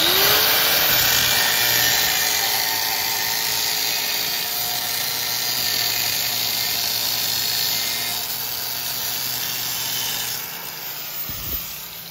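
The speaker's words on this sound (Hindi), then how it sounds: "ये पुराने वाला जो बैंड है, ठीक है, इसको हमने काट देना है ग्राइंडर के साथ।" An angle grinder cuts through an old exhaust band on a Chinese-made motorcycle, giving a loud, steady high-pitched whine that runs for about ten seconds before tapering off, with no talking.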